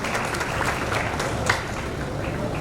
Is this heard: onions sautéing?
no